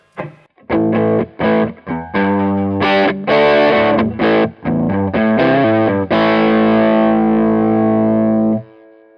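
Electric guitar through a JHS Bonsai overdrive pedal on its Strong Mod setting plays a loud, gritty riff of chopped chords and notes, ending on a long sustained chord that cuts off abruptly.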